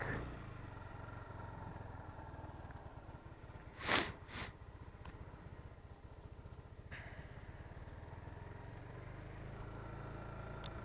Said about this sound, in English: Seems to be idling okay.